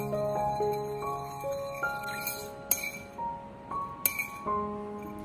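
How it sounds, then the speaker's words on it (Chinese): A spoon whisks a sauce of soy sauce, sugar, pepper and chili oil in a bowl, giving rapid ringing clinks against the sides, close and clear with no talking. "然后用勺子快速的搅拌均匀"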